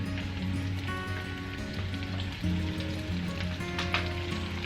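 Lemon garlic chicken sizzles steadily in a pan, a continuous close crackling hiss with scattered pops, alongside faint tonal background music.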